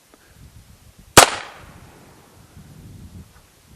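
A single sharp, loud gunshot from a Heritage Barkeep revolver fired over a chronograph outdoors, with a short decaying tail and quiet background before and after.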